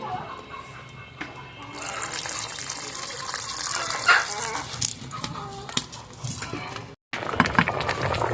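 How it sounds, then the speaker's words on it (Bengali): Water pours steadily into a pan of cooking bottle gourd curry, a continuous splashing rush lasting several seconds with a brief break near the end. "এখন দিয়ে দেওয়া হচ্ছে পানি"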